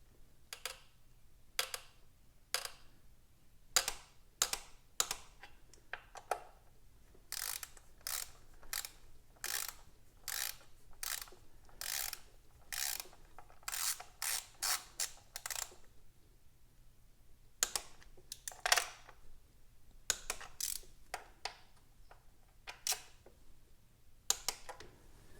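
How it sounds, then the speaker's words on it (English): Torque wrench tightening spark plugs on a Honda Element during a tune-up, giving long runs of crisp, evenly spaced ratcheting clicks with short breaks, close-up and fairly quiet over a low steady hum. "let's get our torque wrench"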